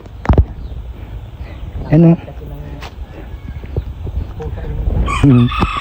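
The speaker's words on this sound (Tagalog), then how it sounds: "Ito yung mga manok dito" Roosters on a small Filipino farm beside a hut crow twice, a clear harmonic call near the start and another near the end, over a background of clucking hens and a low rural hum, with voices talking in between.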